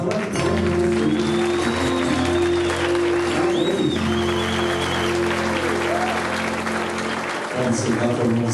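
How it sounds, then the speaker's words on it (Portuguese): Applause at a formal ceremony nearing its close, steady clapping under a sustained musical tone and some voices, continuing throughout with a brief dip near the end. "Uma salva de palmas."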